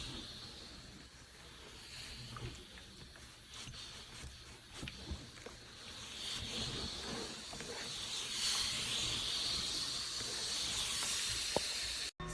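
A Shark S3501 steam pocket mop on a kitchen hard floor gives off a steady, close, continuous steam hiss that swells slightly over time, with no talking.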